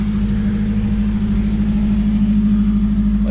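A 1969 Toyota Corona with a swapped-in 4AGE engine drives along, its engine a steady, loud, low droning hum heard from inside the car without any pause.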